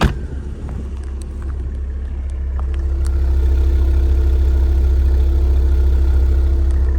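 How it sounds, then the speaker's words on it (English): A 2015 Porsche Panamera S exhaust rumbles close by, a deep, steady low drone that swells in loudness over the first few seconds and then holds at a strong idle, with no voices. "I'll get back there and let you hear the exhaust note too for anybody interested"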